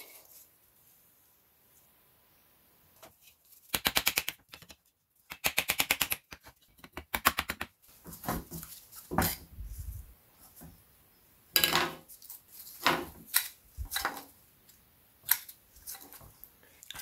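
Worn shaft of a BMW N47/N57 EGR valve from a car with 165,000 miles, rattling and clicking in sharp metallic bursts as it is worked by hand, close up, with quiet gaps between the rattles.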